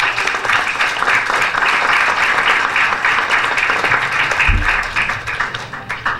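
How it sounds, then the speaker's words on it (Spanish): An audience applauds loudly at a book presentation honoring a journalist and university lecturer. The clapping is dense and sustained, filling the whole stretch without a break. "Un aplauso fuerte para un momento tan importante."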